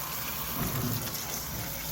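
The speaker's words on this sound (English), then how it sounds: "And immediately we just run some cold water on it." Cold tap water gushes steadily over cooked lo mein noodles in a strainer, a constant close splashing rush with no talking.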